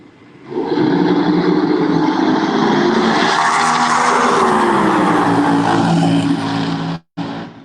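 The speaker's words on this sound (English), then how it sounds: "you can hear that thing just mixing up cylinders all the way down the track" Top Fuel or Funny Car dragster at a hot rod reunion drag race, its engine roaring loud and continuous down the track with an uneven, cylinder-dropping misfire, then cutting off abruptly near the end.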